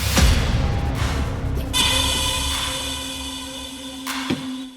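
A musical sample drenched in big-room convolution reverb, its sustained tones and long wash of ambience hanging on alone, with a brief soft attack near the end.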